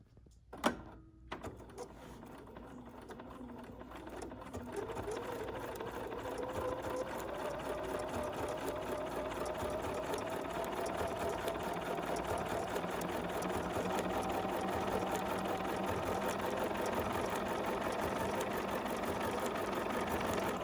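A BERNINA sewing machine sews a blind hem with a blind hem foot, starting with a couple of sharp clicks before a steady, continuous motor hum builds and runs on evenly, close and unbroken.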